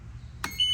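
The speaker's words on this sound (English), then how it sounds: "you're gonna hear that beep from the alarm system of my motor" A boat motor's alarm system gives a sharp electronic beep as the key on a pontoon helm console is turned on, a short click followed by a clear sustained tone, alone and close.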